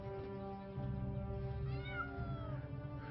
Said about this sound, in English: Who has the kitten?